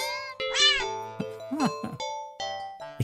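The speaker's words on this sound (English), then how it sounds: "You know it's angry when there's an R in the meow." A cat in an indie horror video game meows angrily, with several drawn-out, rising and falling yowls in close succession, loud and near, alongside faint game tones.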